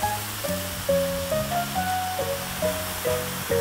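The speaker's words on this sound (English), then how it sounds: "There's a hole in the hose." A steady, breathy hiss of air escaping from a hole in a hose runs throughout, with faint tonal squeals rising and shifting in pitch over it.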